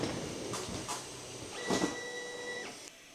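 A EufyMake E1 UV printer raises its carriage during a nozzle check: a soft motorized whirr with a steady tone, a few clicks and thumps, heard close and fairly quiet, with no voices.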